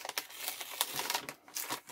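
Paper bags being handled and crinkled up close, a quiet run of crisp rustles and crackles in irregular bursts, with no voices.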